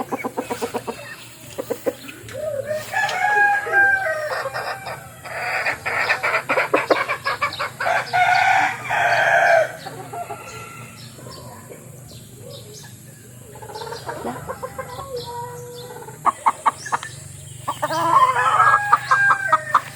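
A rooster crows loudly nearby, mixed with repeated clucking and other fowl calls, in bursts spread across the recording.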